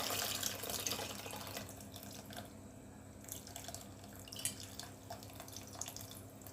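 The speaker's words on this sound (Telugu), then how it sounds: "ఇప్పుడు నేను పులుసు పోసేసుకుంటాను." Tamarind juice poured into a pot of simmering village-style dal soup, a soft continuous liquid splash and trickle over low kitchen hum, quiet and close, with no talking.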